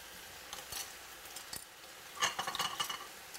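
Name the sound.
stirring basil and salt in a pan on high flame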